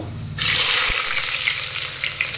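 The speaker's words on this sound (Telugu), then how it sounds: "సో ఆయిల్ హీట్ అయిపోయిందండి. ఇందులో పోపు దినుసులు, ఆవాలు, జీలకర్ర, కొన్ని మెంతులండి." Mustard, cumin and fenugreek seeds hitting hot oil for a Telugu bottle gourd stew, a loud sudden burst of close sizzling that starts abruptly and holds steady with faint crackles.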